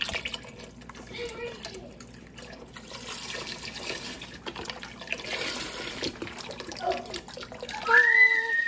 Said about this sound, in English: Add the beef broth.